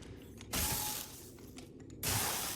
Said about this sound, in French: Laisse-moi t'enlever ce boulon d'entrave.